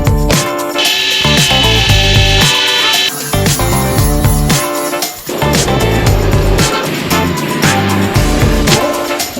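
Loud, continuous power tool whirring and grinding while screws are worked out of a 1958 MGA Coupe barn find, with shifting pitch, brief pauses and a dip near the middle.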